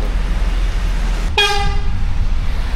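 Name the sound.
car horn honking in traffic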